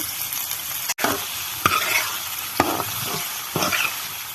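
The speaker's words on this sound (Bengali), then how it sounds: "আমি পেঁয়াজগুলো দিয়ে দিলাম। এবার পেঁয়াজগুলো দিয়ে একটু নাড়িয়ে নেব।" Onions sizzle and fry in a hot pan with a steady crackle while a utensil stirs them, scraping at intervals that stand out over the continuous frying.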